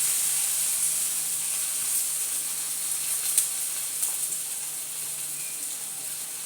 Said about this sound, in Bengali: আমি এক এক করে করলাগুলোকে ভাজি করে নেব।